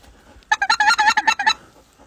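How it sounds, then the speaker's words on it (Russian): A flock of geese calling while flying over a hunting blind, a quick run of about a dozen loud honking cries packed into a second, fairly close, then quiet. "Может быть, слышите, как гуси кричат?"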